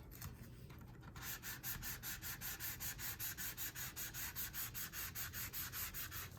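Rhythmic back-and-forth strokes of 600 grit sandpaper on a guitar, brisk and evenly paced, scratch steadily and close up after a brief quiet start.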